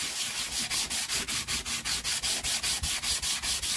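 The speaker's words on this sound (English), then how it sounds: "So we'll just get some sandpaper" Sandpaper rubbed by hand over a Douglas engine cylinder head in steady back-and-forth strokes, a rapid regular rasping rhythm of about four strokes per second, close and even, with no talk.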